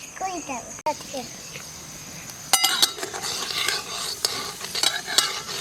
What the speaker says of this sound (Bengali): বাদামটা লাল লাল করে ভাজা হয়ে গেছে